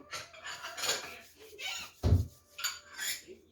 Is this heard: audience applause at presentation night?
no